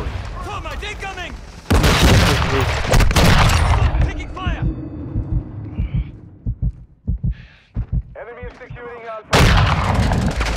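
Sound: thermite grenade explosion in a video game

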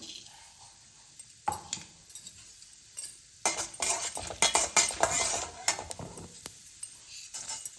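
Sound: chana dal and urad dal frying in coconut oil

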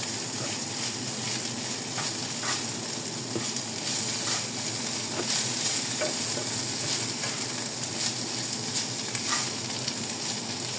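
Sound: stir-frying holy basil chicken in a pan

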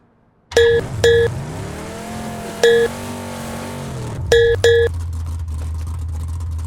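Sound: car driving in the video game PUBG, on the Miramar map

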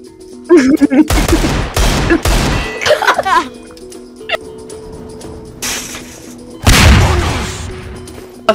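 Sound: gunfire in video game Garry's Mod

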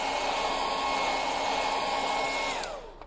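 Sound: hair dryer blowing

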